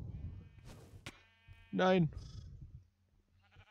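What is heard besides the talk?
sheep bleating in Minecraft video game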